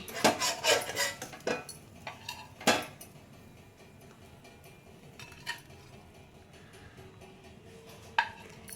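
Metal utensils clink and scrape against plates and pans as egg bread toast is lifted onto a plate, a few sharp close taps early on, then sparse light clinks.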